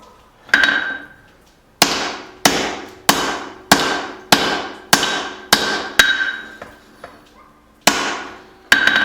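A cross peen hammer strikes hot steel while a hatchet is forged, ringing out in about a dozen sharp metallic blows at a fairly regular pace, each leaving a short bright ring that decays before the next strike.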